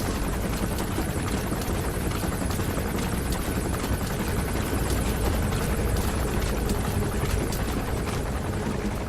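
Gunship helicopter in the Metal Gear Solid V video game, a steady, loud rotor drone that thrums continuously throughout with dense low chopping and engine roar, no voices heard.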